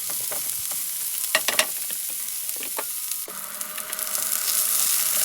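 Onion cooking down in oil in a frying pan, a continuous hissing sizzle punctuated by a few sharp spatter pops and stirring scrapes, heard up close with no speech.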